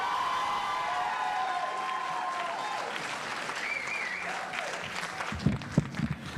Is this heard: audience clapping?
yes